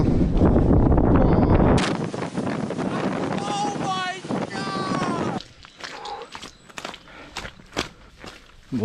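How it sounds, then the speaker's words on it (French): Gusty wind buffeting the microphone on a slippery trail run, loud rumbling gusts at first, then easing into intermittent buffets with footsteps and someone talking over it. "Il y a du vent, ça souffle."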